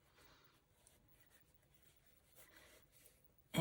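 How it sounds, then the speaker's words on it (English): A pencil traces a sewing pattern for a bag, making faint, soft scratching strokes in short bursts in a quiet room, before a sudden louder knock at the very end. "And I'll draw and trace it."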